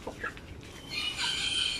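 Chickens cluck and squawk restlessly on a farm, a few short calls at first, then a louder, busier stretch of agitated clucking near by, with no talking.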